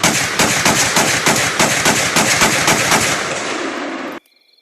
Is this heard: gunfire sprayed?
yes